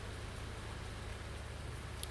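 Steady rain falling in the farming video game Farming Simulator 2019, a constant soft hiss of drops under a low droning hum, continuous and even throughout.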